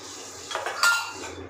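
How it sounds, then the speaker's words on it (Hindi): Dishes and steel utensils are washed at a home sink, with a brief run of clinking and scraping of cutlery and pots over a steady background hum. "और अब मैं फटाफट से अपने बर्तन साफ़ कर लूँगी जितने भी हैं"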